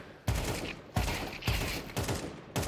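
Gunfire from a rifle in Counter-Strike 2 comes in short controlled bursts, about five sharp, loud shots spaced roughly half a second apart, each with a brief ringing tail.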